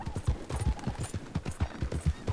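A horse galloping in the video game Red Dead Redemption 2, rapid rhythmic hoofbeats pounding steadily and close, with a faint whinny-like tone in the mix.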